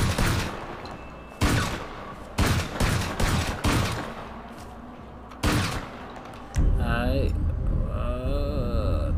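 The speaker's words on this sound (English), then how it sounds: "Combat shotgun." Modded gunfire from a combat shotgun in a video game, several loud sharp blasts in irregular succession, followed by a louder rumbling burst with whooshing effects near the end.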